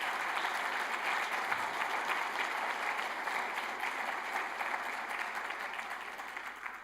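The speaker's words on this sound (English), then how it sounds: "we want to show a round of applause to say thank you for all of our great leaders." A church congregation applauds its leaders during a service, a sustained, even clapping from a sizable crowd in a reverberant room, fairly quiet and with no voices over it.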